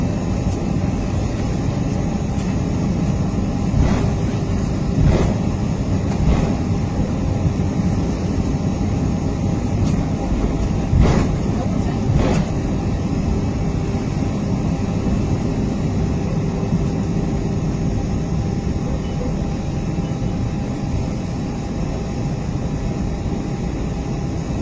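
Airbus A320 taking off from Heathrow, heard from inside the cabin as a steady, loud engine roar with a broad rumble that holds throughout, marked by a few faint clicks and knocks.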